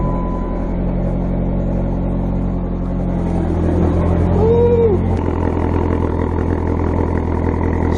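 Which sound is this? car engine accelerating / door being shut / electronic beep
car engine accelerating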